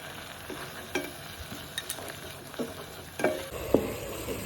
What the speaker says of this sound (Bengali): এখানে এটা ভালো করে একদম নেড়ে টেড়ে মিশিয়ে তারপর এটা একটু কষিয়ে নিতে হবে।